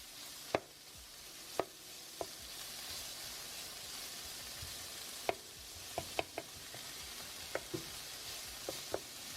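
Bacon and seasonings for BBQ baked beans sizzle steadily in a pan, a soft continuous frying hiss broken by scattered sharp clicks and taps of a utensil against the pan.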